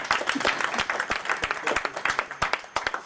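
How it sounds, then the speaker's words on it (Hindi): Clapping from an audience at a Hindi book event, a steady patter of individual claps with sharp distinct hits, moderately loud and close, with no talk over it. "भाई यहाँ तो तालियां बजाइए।"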